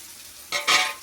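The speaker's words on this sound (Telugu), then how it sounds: "ఆయిల్ బాగా వేడెక్కిన తర్వాత ఈ సన్నగా తగిన ఆనియన్స్ వేసుకుని వేసుకోవాలి" Thinly sliced onions drop into well-heated oil for Hyderabadi chicken dum biryani, with a low background sizzle that bursts into two loud, close frying hisses.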